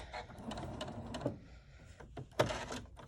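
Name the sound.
sewing machine sewing across a folded strap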